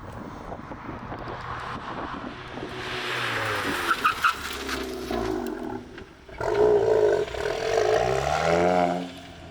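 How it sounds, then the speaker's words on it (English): An old VW Rabbit GTI without ABS brakes hard on a racetrack at a Winnipeg Sports Car Club driving day, its engine note roaring and falling while locked tires give a sustained, wavering squeal under rushing wind. "So you did experience a little bit of tire lock up there"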